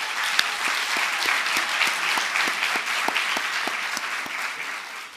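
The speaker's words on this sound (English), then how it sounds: "Can we give them another round of applause?" Audience applause at a university health sciences research day, a dense, sustained round of clapping from a sizable crowd, with a few crisp nearby claps standing out at regular intervals and no voices.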